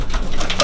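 A yearling racing pigeon in a loft coos in one short, close burst, with no talk over it.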